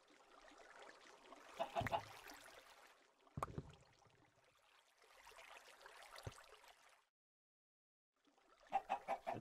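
Chickens in Minecraft cluck in several short bursts separated by pauses and a brief silence, fairly faint and without talk.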